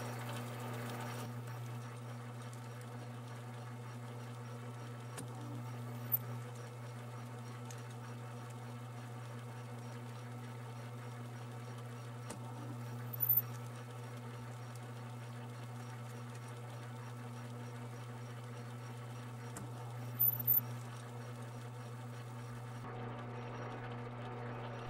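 A lathe cuts an internal thread in brass with light passes, giving a steady low machine hum with a constant tonal drone and a few brief faint ticks, no talking over it.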